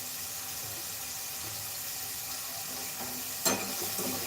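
Onion frying in oil for a mixed legume curry gives a steady, low sizzle throughout, with one brief clatter near the end. No talking.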